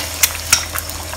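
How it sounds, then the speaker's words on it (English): Six cracked eggs fry in a hot oiled pan with a steady, close sizzle while a utensil stirs them, giving two sharp scraping clicks. "I've cracked 6 eggs. I'm just going to put them in, pour them in."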